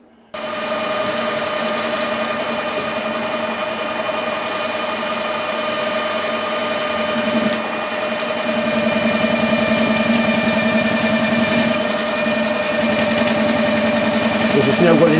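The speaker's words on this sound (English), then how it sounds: "What I'm going to do now is turn this down to the diameter to fit in that hole" A metal lathe turns down hex stock for a steam waggon tool, giving a steady whining hum with a faint rhythmic chatter from the interrupted cut, fairly close and continuous with no talk.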